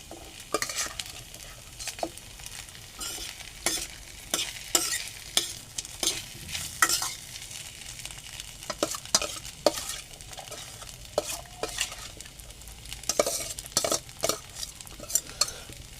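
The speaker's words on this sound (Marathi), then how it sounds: "तो पण आपण ह्याच्यात थोडा थोडा ॲड करू आणि परतून घेऊ." Soaked sabudana is stir-fried in a pan, with frequent sharp scrapes and taps of a spatula over a soft, quiet sizzle.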